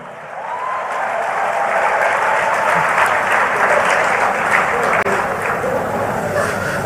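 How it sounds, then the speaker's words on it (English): Sustained applause from a large audience of about 2,000 people at a talk on greed in Nigerian society, a dense continuous clapping that fills the clip at steady volume with no talk over it. "Big round of applause for you."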